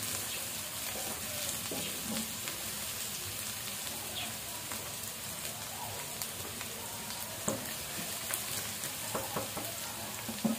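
Steady sizzling and crackling of pork ribs frying in a pan, continuous and close, with occasional small pops and stirring clinks.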